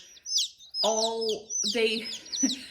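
Spring chicks of an auto-sexing chicken breed cheep in short high chirps, close and loud, with bursts of lower clucking mixed in.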